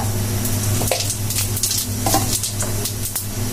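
Bay leaves and cumin seeds sizzle steadily in hot oil for a mango dal, a dense continuous frying hiss with scattered crackles and a few light stirring scrapes, close and fairly loud.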